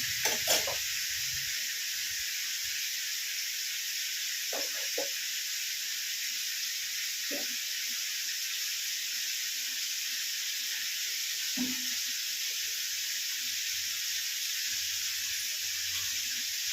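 Masala spices frying in a pan give a steady, close sizzling hiss that runs almost the whole time, with a few soft stirring knocks and scrapes scattered through it.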